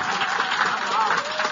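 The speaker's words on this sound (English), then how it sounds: "can I get a round of applause for that by itself?" An audience applauds at a talk on eating and exercise, a dense, steady wash of clapping that runs unbroken throughout, with voices mixed into the noise.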